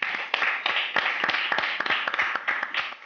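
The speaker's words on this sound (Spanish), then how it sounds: "Vamos a recibir con un aplauso a Tomás el Chacal Aguirre." Scattered hand clapping from a small kickboxing TV show audience, a steady patter of claps with some sharper individual slaps, fairly close.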